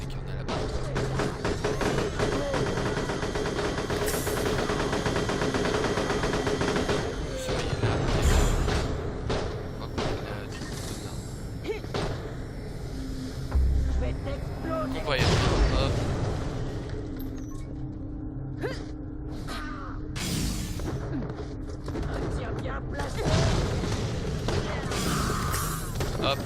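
Gunfire and explosions from the video game Borderlands The Pre-Sequel, with loud booming shots and crashes scattered over a busy, continuous game soundscape while someone talks over the action.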